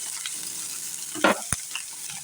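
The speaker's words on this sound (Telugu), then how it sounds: "అటు ఇటు కొంచెం కలుపుకుంటూ ఫ్రై చేసుకోవాలి." Onions sizzle steadily in a hot pan for a bottle gourd and chana dal curry, with a brief scraping stir of the spoon partway through and a sharp clink soon after; no voices.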